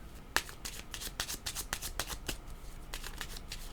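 Tarot cards are shuffled and drawn by hand in a quiet room, a quick, close run of crisp riffling flicks and soft slaps, with no talking.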